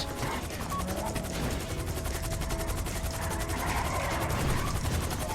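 A helicopter in the video game GTA Online, a loud, steady rapid rotor chop with mechanical whine filling the whole stretch, with faint game sounds mixed in.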